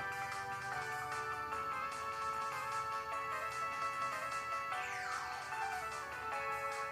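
Tinny chiptune music from the Java mobile game Bomberman Kart, played through the small speaker of a Sony Ericsson K530i phone. A steady, continuous melody with bright, beeping tones and a sweeping effect near the end, with no talking.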